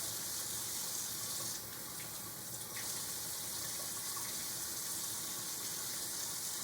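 A tap runs steadily while hands are washed under the stream, a loud, continuous close gush with a slight dip in flow partway through.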